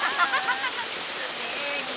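Sapaongot Falls in Ranao, Bani, Pangasinan, gives a steady, close broadband rush of falling water that fills the whole clip, with possible faint voices beneath.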